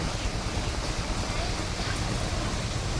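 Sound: rain falling

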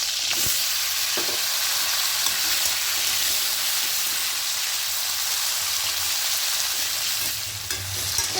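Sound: potatoes and tomatoes frying in a pan

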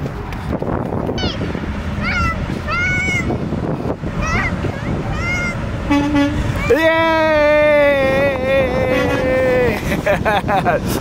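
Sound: truck horn honking

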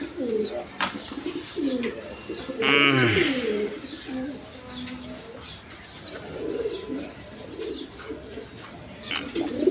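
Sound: high-flying Giribaz pigeons cooing

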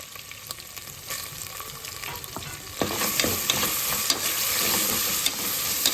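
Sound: onions frying in a pan for mutton brinjal curry

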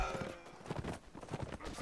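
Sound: horse hooves in Mount & Blade video game

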